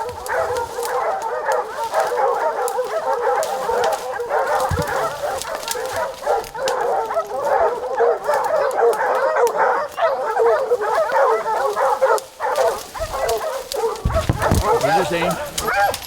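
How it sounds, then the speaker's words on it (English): Hunting hounds chasing a bear in North Carolina bark and yip continuously and excitedly at a distance, a steady chorus of baying with some whimpering mixed in. "If you hear those dogs barking, if you hear them starting to chase"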